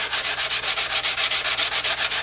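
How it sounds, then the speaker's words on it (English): Sanding block rubbed back and forth over a crash-damaged FZR motorcycle fairing being repaired with CA glue, a steady rhythmic rasping stroke about seven times a second, close and alone with no talking. "the sanding block is the whole trick to get this, and just keep going back and forth with the CA over and over and over"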